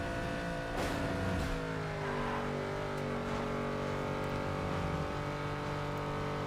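Street racing car in the PS2 video game Need for Speed Underground 2, a Vauxhall Corsa being overtaken, engine revving with rising and falling harmonic whine and gear shifts, steady and moderately loud with no talk.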